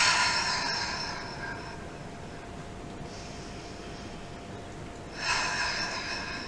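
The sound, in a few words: forceful breathing, in through nose and out through mouth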